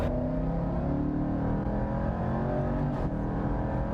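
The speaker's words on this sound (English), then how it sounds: "So we got the 5-litre supercharged V8, the all-wheel drive system from the F-Type" Jaguar XE SV Project 8 with a 5-litre supercharged V8 pulling away from the pits at Portimao race circuit, a loud, steady engine roar with rising harmonic tones and a brief burst of noise near the end.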